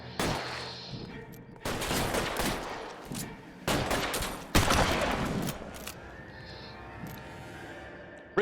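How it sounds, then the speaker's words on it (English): Repeated shotgun blasts in the LA Noire VR video game, loud sharp bursts spaced every second or so across the span, with other game sounds between them and a few faint voices. "I have the shotgun again."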